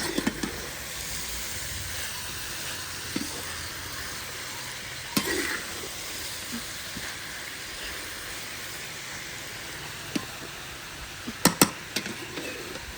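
Food sizzling steadily in a hot pan while being stirred, a constant close frying hiss with occasional scrapes and clinks of the spoon, no voices.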